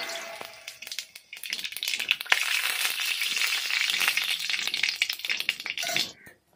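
Mustard seeds tempering in hot oil in a kadai on a village stove, a dense crackling, popping sizzle with sharp spatters, loud and close, continuing for several seconds before cutting off.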